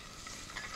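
Butter melting in a hot pan gives a faint, continuous soft sizzle with light crackling, low in level and with no voices.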